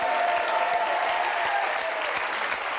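A television studio audience applauding loudly and steadily, with dense clapping and a few cheers throughout.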